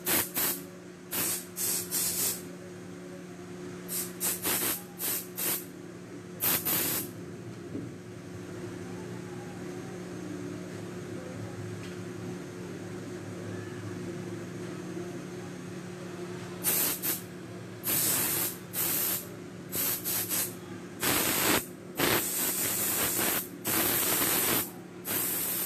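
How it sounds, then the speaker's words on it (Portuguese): An aerosol spray can used on a craft piece for a decorated egg-in-a-jar project, firing a series of short hissing bursts at the start and again near the end, with quiet background hum between. "E venho com o spray."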